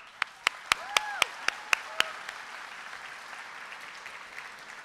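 A graduation audience at Burlington High School's 2019 ceremony bursts into applause: a few sharp, loud individual claps at first, then a broad wash of crowd clapping with a faint whistle, which gradually softens.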